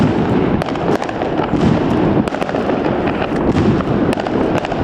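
New Year's fireworks and firecrackers go off all around in Stogi, Gdańsk, a dense, continuous crackle of sharp bangs and pops at varying distances, loud and with no pause throughout.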